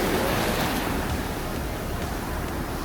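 Sea waves wash onto the beach at Kakinada, a continuous loud roar of surf mixed with wind buffeting the microphone.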